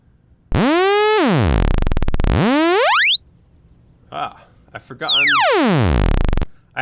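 A synthesized sawtooth tone from a wavetable synth sweeps up and down in pitch, buzzy and harmonically rich, loud and steady, with glitchy clicks in the middle and no talking.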